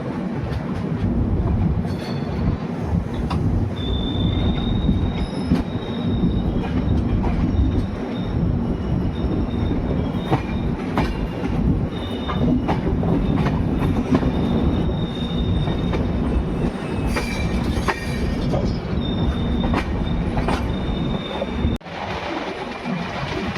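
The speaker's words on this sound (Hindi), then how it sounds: "तो ट्रेन स्पीड पकड़ चुकी है और ट्रेन बढ़ रही है दुर्गापुरा रेलवे स्टेशन की तरफ" An express passenger train rolls through Jaipur at speed toward Durgapura station, a loud steady rumble of wheels on rail with intermittent squealing tones and clicks, heard from inside a carriage.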